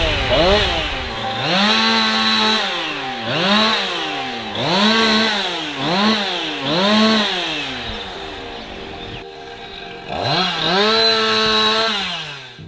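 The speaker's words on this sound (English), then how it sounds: "waking up to the sound of the tractor and the chainsaws this morning" A chainsaw revs repeatedly in rhythmic bursts while cutting trees, engine pitch climbing and falling with each cut, loud and close, with a brief lull before another surge.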